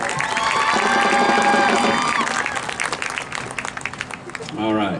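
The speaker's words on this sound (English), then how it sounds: "but let's give them a round of applause as well." Applause, cheers and whistles rise from an audience at a school marching band concert for the drum line, strong at first and then thinning, with a voice speaking near the end.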